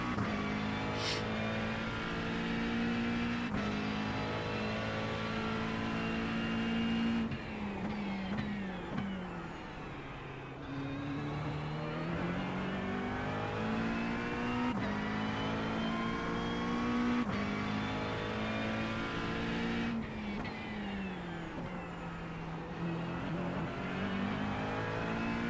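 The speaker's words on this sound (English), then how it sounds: "Really do like the sound of this car." A race car engine in iRacing during an IMSA endurance race at Sebring, revving loudly and continuously, rising and falling through gear shifts with a steady harmonic whine over about 25 seconds.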